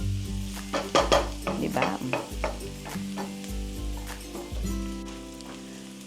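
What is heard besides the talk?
onion, garlic and ginger sizzling, caramelizing in pan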